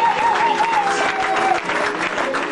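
A church congregation breaks into loud, dense applause, with a voice or tone rising over the clapping at first.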